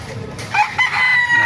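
A rooster crows once, loud and close, amid the low background bustle of a poultry market where many native chickens are for sale.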